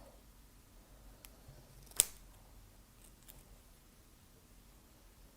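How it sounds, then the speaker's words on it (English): Scissors snip once through braided paracord center cords, a single sharp cut in an otherwise quiet indoor space with no talking. "next you're going to cut these center cords right about at where your braiding stops"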